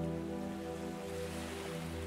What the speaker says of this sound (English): And you can hear the waves as they gently come into the shore.